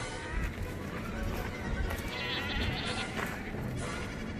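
A herd of goats bleats continuously at close range on a Turkish shepherding outing, many overlapping calls over a busy outdoor noise of movement and hooves.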